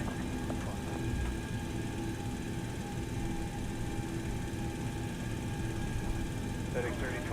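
Steady droning hum of FlyJSim 727 jet engines in X-Plane 11, a constant even roar with a faint whine held throughout, no distinct events.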